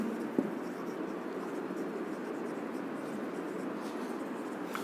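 Chalk or marker scratching across a board during an electrical engineering lecture on DC machine windings, a short faint stroke near the start followed by quiet room tone.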